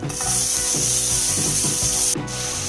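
Finely chopped onion tipped into hot sizzling spices inside a rice cooker pot for tomato rice, a steady close frying hiss with rubbing, stirring scrapes throughout, briefly dipping near the end.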